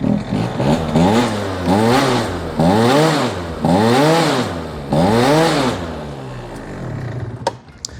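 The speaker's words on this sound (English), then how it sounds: "if I rev it up and I keep it on the main, it'll be perfect." A scooter engine with an upgraded carburetor running on the main jet is revved repeatedly, giving five loud, close rising-and-falling throttle blips that settle to idle with a clatter at the end.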